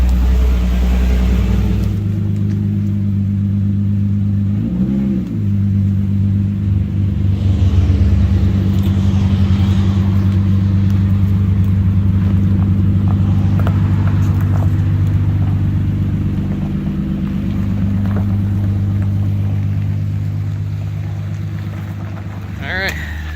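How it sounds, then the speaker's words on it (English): A loud car engine rumbles steadily, close by, with a brief rev early on and a noisy mechanical whine underneath; a voice speaks briefly over it. "God, I forgot how loud this car was."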